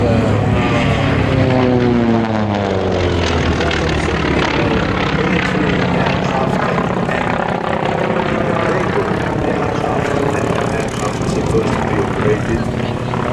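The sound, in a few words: Grumman propeller aircraft flying at Duxford airshow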